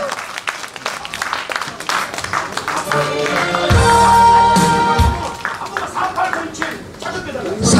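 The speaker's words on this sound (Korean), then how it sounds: "박수 한번 주세요." Applause from an audience at a fan club launch concert, clapping that swells and fades in bursts under ongoing talk and background music.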